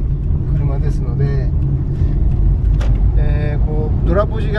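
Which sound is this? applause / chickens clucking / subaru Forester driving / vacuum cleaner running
subaru Forester driving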